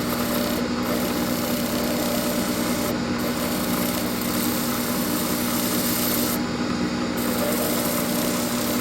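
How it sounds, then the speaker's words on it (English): A sharpening stone rubs along a blade edge to remove the burr, making a steady, close, abrasive hiss that continues without a break for several seconds. "can use this stone here to deburr the blade."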